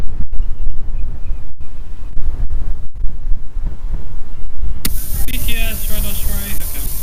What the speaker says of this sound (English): It sounds windy as well on the outside microphone.